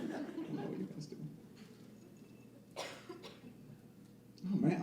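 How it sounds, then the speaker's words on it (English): Audience member coughing at a live stand-up comedy show, a few sharp nearby coughs and throat clearing spaced across a few seconds, with someone talking around them. "I'm the only one who cares about this poor woman who has a cough."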